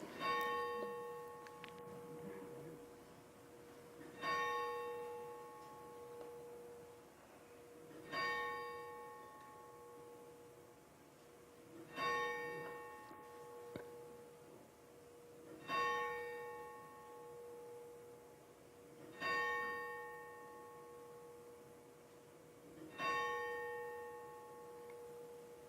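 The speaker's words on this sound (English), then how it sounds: "so the bell ring." A church bell tolls in slow, evenly spaced single strikes, about one every four seconds, each ringing out and fading before the next, heard at a distance over quiet background hiss.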